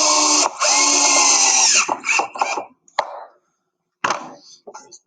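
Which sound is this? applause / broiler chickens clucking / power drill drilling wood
power drill drilling wood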